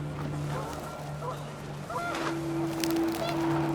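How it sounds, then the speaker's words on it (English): Panicked geese honking in the video game What Remains of Edith Finch, with a few short calls over a steady windy wash and a low droning tone, moderately loud and close. "The wind picked up, and panicked geese appeared and quickly went."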